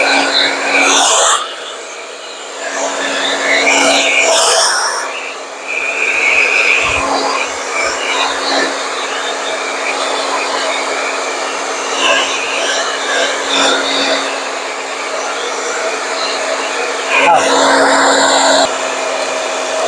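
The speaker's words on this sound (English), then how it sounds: "So now I'm going to take my blow dryer, my beloved blow dryer, which will blow away all the fumes" A blow dryer runs loud and close almost throughout, blowing over an old book cover being made into a junk journal, with its steady roar shifting slightly as it moves and a few brief pauses.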